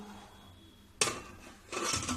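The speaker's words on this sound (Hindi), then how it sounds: "अब इसको मैं ढक्कन लगा देती हूँ।" A metal lid is set onto a pressure cooker, with a sharp clank, a brief metallic rattle, then a second scraping clatter as it seats, close and fairly loud in a quiet kitchen.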